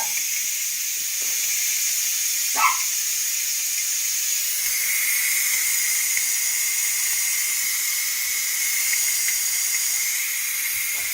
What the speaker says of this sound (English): we're going to release the rest of the air that's trapped in there